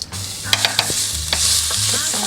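Pressed garlic sizzling in oil in a pan over lowered heat: a loud, close hiss with quick stirring scrapes and clicks at the start, settling into steady frying.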